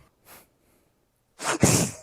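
A single loud, close sneeze bursts out near the end, preceded by a faint short intake of breath, with otherwise quiet surroundings.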